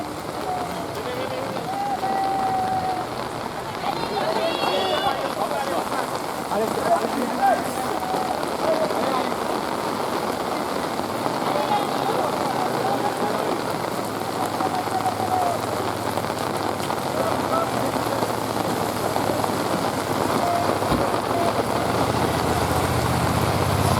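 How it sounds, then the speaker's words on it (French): Torrential rain pours steadily on a road during a cycling race finish, a dense continuous hiss that holds loud throughout, with crowd and voices faintly underneath. "sous une pluie torrentielle"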